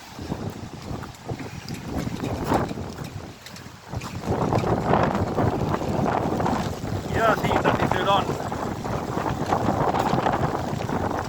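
A stormy sea at night below a seaside promenade: a continuous roar of crashing waves and gusting wind buffeting the microphone, with someone speaking briefly over the loud noise.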